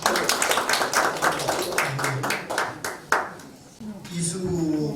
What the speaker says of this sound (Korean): 박수로 한번 환영하시겠습니다.